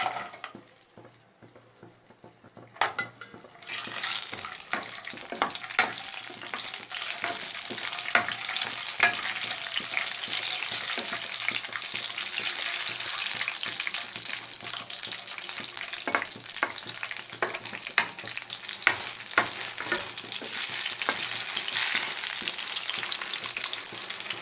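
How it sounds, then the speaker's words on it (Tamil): Cashews and raisins fry in hot ghee for Pongal, starting from near silence before a sudden bright sizzle bursts in and continues steadily, with light crackles and stirring throughout. "நெய் நல்லா காஞ்சிடுச்சு. இப்போ வந்து முந்திரி திராட்சையை சேர்த்து விட்டுடலாம்."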